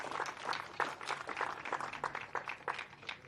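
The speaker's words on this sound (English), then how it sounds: "please, one big round of applause for your OKN Senior" Crowd applause for the OKN Senior karting finalists at Al Ain International Kart Circuit, a steady, dense clapping that lasts throughout with no one talking over it.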